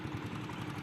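Motorcycle engine idling steadily close by, a continuous low rumble with slight throbbing over under a second, no talk.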